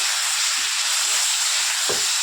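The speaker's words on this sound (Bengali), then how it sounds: "তেলের উপরে একটু সরষে আর একটু গোটা শুকনো লঙ্কা একটু ফোড়ন দিতে হবে।" Mustard seeds temper in hot oil for a fish sour curry, producing a loud, steady hiss of sizzling close by, with a few faint pops and no talk.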